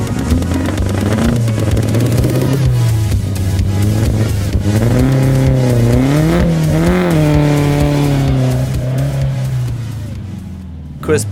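A classic Ford Escort rally car, freshly rebuilt with slightly spongy brakes, drives hard on a rally stage, its engine droning loud and close with rising and falling revs throughout, then easing off near the end.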